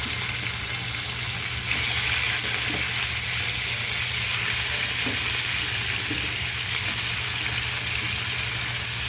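Chicken sautéing with ginger in hot oil, a loud continuous close sizzle with faint stirring taps, constant throughout and with no one talking.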